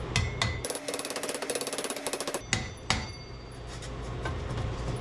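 Metal tools work on a race car's exhaust header bolt: a fast run of ratcheting clicks, then a couple of sharp metallic taps, close and fairly quiet in a garage.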